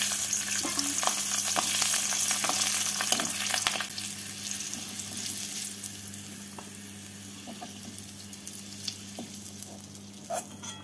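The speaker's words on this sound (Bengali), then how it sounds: "এবার এই তেলের মধ্যে কয়েক কোয়া রসুনকে ভেজে নেব।" Garlic cloves fry in hot oil in a pan, giving a steady close sizzle that is louder at first and then eases to a softer crackle, with occasional light clinks and stirring scrapes.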